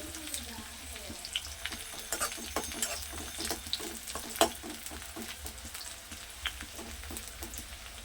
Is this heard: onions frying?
yes